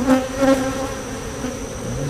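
Honey bees buzz steadily around an opened hive during an inspection, a close, continuous droning hum with slight swells, no voices.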